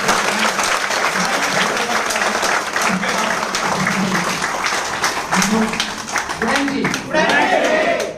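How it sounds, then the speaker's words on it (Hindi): Loud, sustained applause from a seminar audience fills the room, steady clapping with scattered cheers, while a presenter's voice speaks over it toward the end. "तो आप लोग की जोरदार ताली, जोरदार मुस्कुराहट।"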